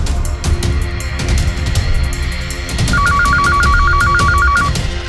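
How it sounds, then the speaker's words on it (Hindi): A telephone rings with a rapid warbling electronic bell over loud background noise, close and steady. "गुप्ता सर का फोन है"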